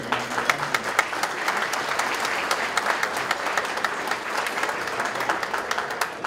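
Steady applause from an audience, many hands clapping together at an even density for several seconds with no voices over it.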